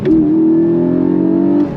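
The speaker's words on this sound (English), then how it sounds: "So you have the sound of that flat 6" A 2025 Porsche 718 Cayman GTS flat-six engine holds a loud, smooth, even drone under throttle, heard close and steady for under two seconds, with no one talking.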